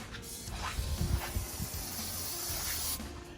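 Contact cleaner sprays onto a KTM valve cover in a close, continuous hiss lasting about three seconds, with a few faint knocks and handling noises underneath.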